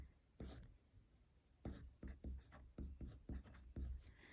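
A pencil writing numbers on a 5th grade math coordinates worksheet, quiet scratchy strokes in short separate bursts, one after another, close and alone with no talk.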